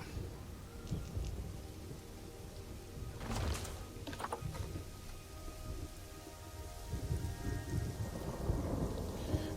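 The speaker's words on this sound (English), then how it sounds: "the rain's coming heavy" Heavy rain hisses steadily in a safari park building game, with a crack of thunder rumbling through in the middle. The downpour stays loud and dense throughout.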